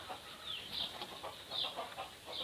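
A native hen clucks softly in short, repeated bursts at close range, with no other sounds competing.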